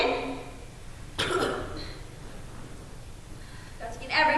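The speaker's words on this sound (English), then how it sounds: "This will make you cough it up." A sick girl coughs with phlegm in a stage play, a couple of short rough bursts separated by quiet, then another cough near the end, fairly faint and close.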